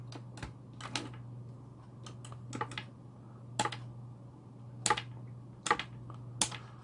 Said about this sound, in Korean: 키 하나하나씩 사용할 버튼을 눌러서 세팅을 합니다